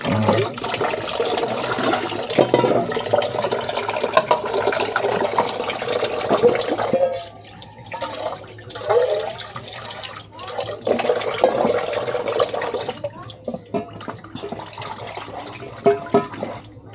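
Strong running water gushes steadily, loud and close, briefly easing then surging again for the whole stretch, with no voices.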